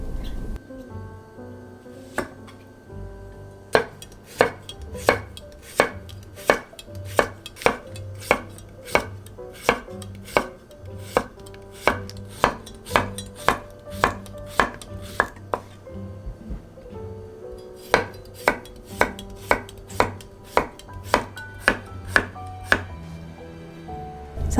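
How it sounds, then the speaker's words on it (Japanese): Two cucumbers are sliced thinly with a knife on a cutting board: quick, even, crisp taps in long rhythmic runs with a short pause midway, loud and close, over faint background music. "きゅうりは2本を薄切りにします。"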